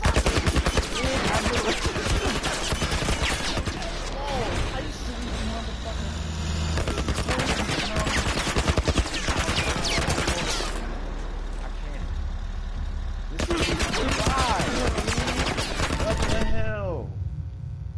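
Rapid automatic gunfire from The Last of Us in a street-and-alley firefight, dense loud bursts nearly throughout with a brief lull before a final stretch of shots.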